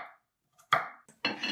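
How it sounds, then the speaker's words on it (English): A knife cuts beets and sweet potatoes into half-inch pieces on a board, giving a few separate sharp chops with short pauses between them, close up and with no talking. "Start by peeling and chopping the veggies."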